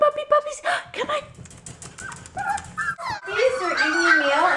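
Excited three-to-four-week-old puppies at mealtime give high yips and whimpers in quick bursts, close by, mixed with a person's talk.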